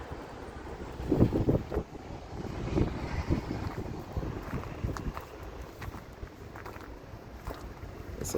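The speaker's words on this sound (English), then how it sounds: "It's so windy today" Strong gusty wind buffets a microphone outdoors beside large tractors, making uneven low rumbling bursts that rise and fall throughout, with no talking.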